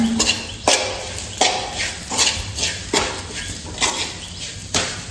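Semolina being roasted and stirred in a pan for Kasaragod-style sheera, with pineapple added, giving a series of sharp scraping clanks of a utensil against the pan at an irregular rhythm, close and fairly loud.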